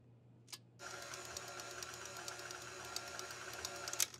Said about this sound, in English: now's the point where I switch to the dough hook, which you see used in making breads